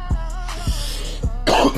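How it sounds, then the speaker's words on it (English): Several harsh coughs and throat clearing close up, spaced out over a couple of seconds, ending in a rougher, louder cough. "Excuse the coughing."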